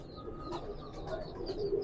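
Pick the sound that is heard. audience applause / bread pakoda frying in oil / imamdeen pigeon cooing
imamdeen pigeon cooing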